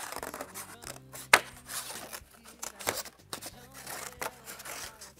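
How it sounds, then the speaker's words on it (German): Scissors snipping through paper to cut out a small paper heart for a craft, with several close, crisp cuts in an uneven rhythm and light paper rustling between them, with no talk. "Ich schneide mir ein kleines Herz aus Papier."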